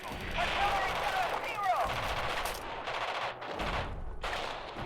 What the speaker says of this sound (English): We're being shelled from an unknown position.